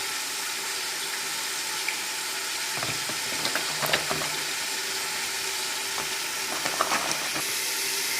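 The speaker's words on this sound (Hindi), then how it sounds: "ये देखें जी, दही और बेसन अच्छे तरीके से मिक्स हो चुका है।" Yogurt and gram flour are stirred together into a wet batter for pakora kadhi. A soft, steady liquid swishing carries occasional light clinks and taps against the bowl, quiet and close, with no speech.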